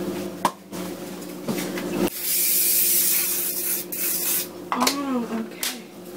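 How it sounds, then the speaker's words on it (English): Cooking oil sprayed onto a vegetarian lasagne, a few short hissing bursts followed by a longer sustained spray, close up, with faint kitchen clatter. "Now I'm actually gonna spray it with the oil."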